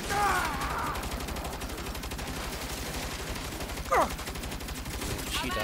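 Turret machine gun fire in the Saints Row video game, a rapid continuous burst roaring throughout with brief shouted voices over it.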